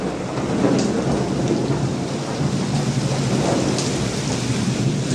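Steady, heavy rain roars throughout, with low rumbling thunder rolling beneath it, loud and close.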